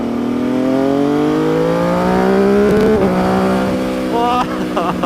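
An MV Agusta motorcycle engine revving hard on a test ride, a loud rising multi-cylinder howl that climbs steadily, then drops and stutters through shifts, close and continuous with the rider's voice faintly under it.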